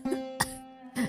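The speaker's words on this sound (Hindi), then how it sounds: "कमरे के कोने में एक फटी हुई चटाई पर उसकी माँ लेटी है और लगातार खांस रही है" A sick woman lying on a torn mat in the corner of a room coughs, with three short, close, rasping coughs spread across a second.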